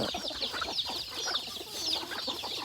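Chickens clucking close by, several overlapping short clucks and calls in a busy, continuous chatter with no voices.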